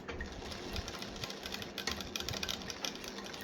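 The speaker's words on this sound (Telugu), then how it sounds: "ఈ పక్కుండే పాదం వేస్తున్నాను కాబట్టి నేను ఇట్లా కుడుతున్నాను." A sewing machine stitches thread piping around a rounded edge, with a steady, close whir and rapid ticking needle strokes that run continuously, without talk.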